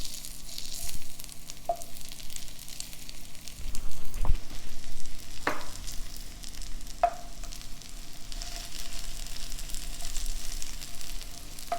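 A bitter gourd omelette fries in a pan after being flipped, a steady close sizzle with a few sharp clinks of a utensil against the pan.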